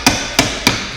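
A hammer strikes rusted bolts on a BMW 120d engine mount, three sharp, loud metallic hits in even succession, close up, with no talking.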